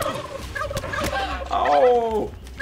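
Several turkeys gobble in the video game How to Survive 2, giving warbling, rapid calls that overlap and end in a loud, prominent gobble near the end over a busy game background.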